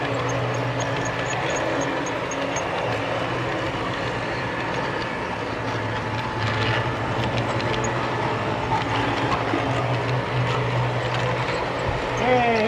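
A Conrail model train runs on a layout with a steady mechanical hum and light clicking from the track. A person talks over it at times.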